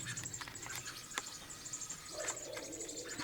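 A mother bird calling near a garage, giving faint repeated chirps and tweets against low background noise.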